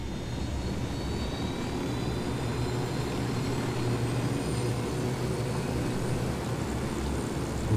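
Helicopter in the video game Ghost Recon Wildlands, a steady droning engine and rotor roar held at constant loudness throughout, with no talk.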